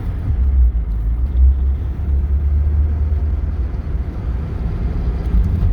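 A 1983 Porsche 944 engine, just started cold with a fresh timing belt, idles with a steady low rumbling drone, close and loud, with no one talking over it.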